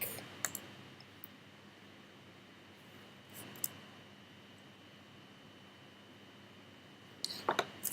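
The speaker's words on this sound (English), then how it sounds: "L, click, release, move the mouse, click." A computer mouse gives a few faint, sparse clicks while drawing in SketchUp, heard as isolated soft ticks over a quiet hiss with long gaps between them.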